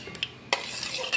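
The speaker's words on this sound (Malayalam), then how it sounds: "എന്നിട്ട് അതൊന്ന് ഇളക്കി യോജിപ്പിക്കാം" A spoon briefly stirs ginger, green chilli and salt together in a bowl, with a light scrape followed by a steady soft rustling swish, close and alone.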